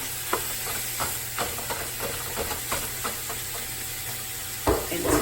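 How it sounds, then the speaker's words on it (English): A pound of ground beef hits a pan of cooking peppers and onions for three bean chili, giving a steady close sizzle and hiss with occasional stirring scrapes and a louder burst near the end. "now I'm gonna go ahead and add in that pound of ground beef"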